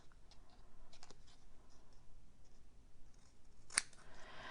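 Scissors hand cutting paper for a handmade Christmas card, quiet snipping and light paper rustles close by with one sharper cut, no talk.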